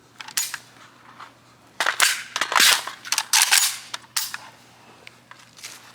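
Pistol magazine reload during dry fire practice, a few sharp close metallic clicks and clacks as the magazine drops and is seated, with quiet gaps between.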